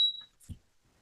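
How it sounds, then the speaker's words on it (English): A single high, steady electronic timer beep rings out near and alone at the start, followed by a faint, brief low thump in a quiet meeting room. "I heard a beep. I thought it was the timer."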